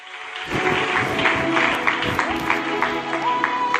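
A church congregation at a prophetic deliverance service breaks into sustained applause and cheering on cue, a dense clatter of many hands that swells quickly and holds steady with voices mixed in.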